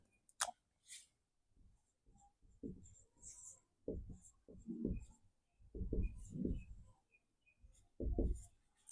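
Chalk or pen writing notes during a physics lecture on refraction of light, soft scratchy strokes in short irregular bursts, quiet and close.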